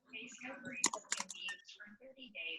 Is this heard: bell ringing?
no